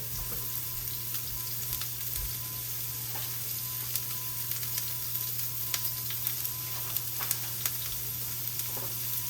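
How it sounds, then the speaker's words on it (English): Onions sizzle in a hot pan with a steady, even crackle and hiss throughout, scattered with small pops. It is heard close with no talking. "It's a hot pan. So we're gonna put a little bit of the onions in there, or all of the onions, I should say."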